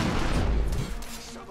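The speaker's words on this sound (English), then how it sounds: "I don't know what kind of cannon this is." Cannon fire in the video game The Order 1886 gives a heavy, booming blast that rumbles loud at first and then fades quickly over a moment.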